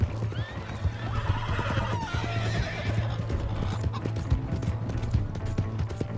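A horse in Red Dead Redemption 2 gallops with steady, rhythmic hoofbeats throughout, and a shrill neigh rises near the start, loud and close with busy game ambience behind.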